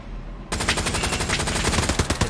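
Gunfire in the World War II shooter Hell Let Loose, a sudden burst of rapid loud automatic shots starting after a brief rumble and continuing in a steady hammering rhythm, close and without talk.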